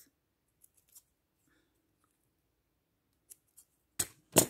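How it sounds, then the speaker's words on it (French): Scissors snipping off excess white paper on a small Christmas craft candy, a few quiet isolated clicks followed by two sharper, close cuts at the end. "je vais venir couper le blanc qui dépasse"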